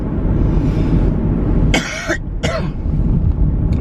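Two sharp, harsh coughs close together, loud and near, over a steady low background rumble.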